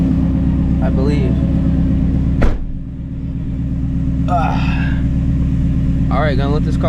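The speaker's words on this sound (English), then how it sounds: "gonna let this car warm up and then we'll be on our way" A Ford Shelby GT350 engine idling as it warms up, a steady low rumbling drone held throughout, near and loud, with a brief knock partway through and someone talking over it in spots.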